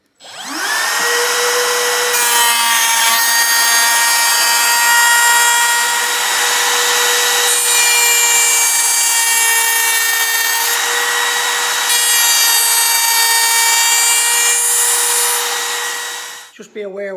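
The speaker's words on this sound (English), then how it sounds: "it's the only router I have with a 1/4 inch chuck, and it's the small Makita" A small Makita router with a 1/4 inch chuck and a bearing-follower cutter spins up to a loud, steady high-pitched whine and cuts along wood, its tone rising and easing slightly as it bites, before winding down abruptly at the end.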